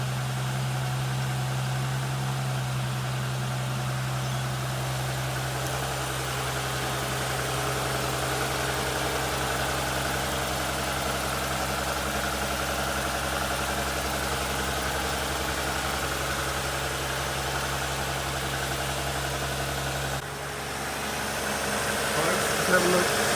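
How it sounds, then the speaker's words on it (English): A 1960 XK Ford Falcon engine idles steadily after its first start in 12 months, carburetor leaking fuel, producing a constant low hum with a faint rhythmic knock, close and unbroken, shifting slightly near the end. "That's the first start in about 12 months on this 1960 Falcon. And just listen to that engine."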